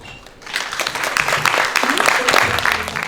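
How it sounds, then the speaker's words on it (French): Applause from an audience at a tech event in Paris starts after a quiet moment, then builds into sustained, loud clapping from a crowd, with a few voices faintly underneath. "faites-lui surtout un maximum d'applaudissements"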